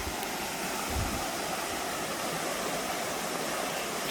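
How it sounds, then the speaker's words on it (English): A raging river rushes right beside a hiking trail on the Appalachian Trail, a loud, constant roar of churning whitewater filling the air without pause and with no voices. "Still hiking along this raging river."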